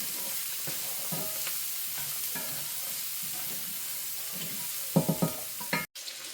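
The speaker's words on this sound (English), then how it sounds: "we're going to go in with about 2 tablespoons of butter. And we're going to let that baby melt on in there." About two tablespoons of butter melt in a pan with shallots, a steady soft sizzle and frying hiss under occasional stirring clicks and scrapes, a few sharper stirring knocks near the end.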